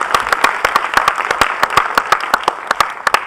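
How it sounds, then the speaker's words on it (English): Audience applause at a filmmakers' panel discussion as a speaker is welcomed on stage: sharp, steady claps ringing out loudly for a few seconds, no voices over it. "Please welcome him on stage with a roaring round of applause."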